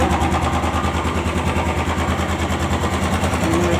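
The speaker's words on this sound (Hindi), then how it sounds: "Cut cut cut cut sound आ रहा है इंजन में इसका।" A Royal Enfield Classic 350 BS6 motorcycle engine with a knocking fault runs at idle, its single-cylinder thump carrying a rapid, regular ticking knock, loud and close, with no one speaking.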